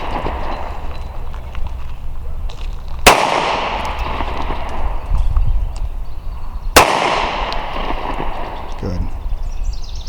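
Two sharp pistol shots from a Sig P365 or Walther PPS M2, a few seconds apart, each ringing out loudly over steady background noise and low talk.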